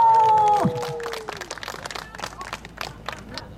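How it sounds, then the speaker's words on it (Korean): A crowd at an outdoor music show at Inje Speedium bursts into applause to welcome a singer on stage, a dense spread of clapping after a sustained musical tone fades. "큰 박수로 만나볼게요"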